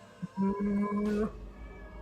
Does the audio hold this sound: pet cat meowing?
yes